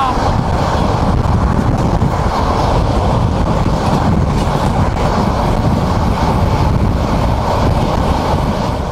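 The Sonar Bangla Express, a train from Dhaka to Chattogram, rumbles past in a loud, continuous roar with rattling wheels and wind buffeting, steady throughout.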